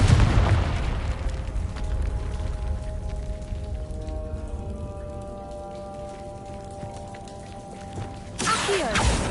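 A Confringo explosive spell cast in Hogwarts Legacy bursts with a deep boom at the start, followed by a long crackling, rumbling decay, with a second sharp burst near the end; tonal game music lingers underneath.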